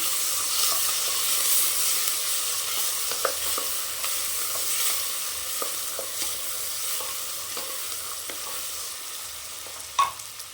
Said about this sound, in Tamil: இதை நல்லா இந்த எண்ணெயிலே வதக்கலாம்